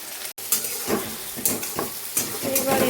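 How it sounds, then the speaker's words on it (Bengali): Chopped onion frying in a wok crackles steadily up close, with several bursts of louder sizzling as it is stirred. "কুচি কুচি করে রাখা পেঁয়াজটাকে এখন ভেজে নেবো ভালো করে"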